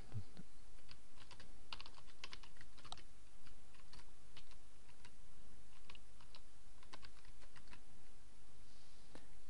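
Steady typing on a computer keyboard while searching for a WordPress plugin: fairly quiet, rapid, uneven key clicks running throughout, alone without speech.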